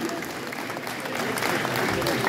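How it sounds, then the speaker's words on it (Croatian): Audience applause for award winners at a singing competition ceremony, a dense, steady clapping from a crowd that swells slightly toward the end, heard alone at moderate distance. "pozdravite ih slobodno još jednim toplim pljeskom"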